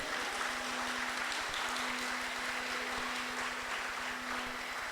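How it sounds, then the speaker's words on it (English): Audience applause in a comedy club, a steady wash of clapping running the full length at moderate level, with a low steady hum underneath and no talk. "Oh, please, clap. Clap again, please."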